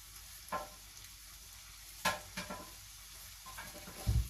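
Fish pasta sauce frying in a home kitchen as a bit of carrot goes in, a soft steady sizzle broken by a few scraping and clattering stir noises, no talking.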